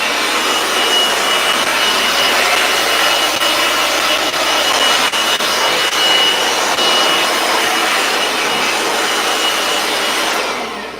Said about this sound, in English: No, I got my sander right down here.